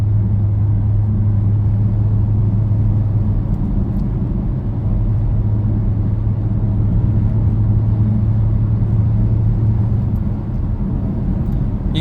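Cabin of a 2000 Audi A6 with the 4.2 engine pulling hard at highway speed: a continuous low engine drone and road rumble, steady and loud throughout with no talking.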